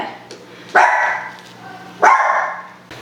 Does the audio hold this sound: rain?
no